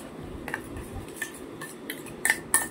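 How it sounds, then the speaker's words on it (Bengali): A spoon stirs egg and paste in a pan for frying, giving light metallic clinks and scrapes at irregular intervals, with a couple of sharper taps near the end. "এই যে এবার লাড়াচাড়া দিবেন।"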